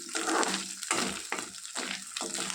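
Dry fish fry in a pan with a steady sizzle, broken by rhythmic scraping bursts as the pieces are moved around, close and moderately loud.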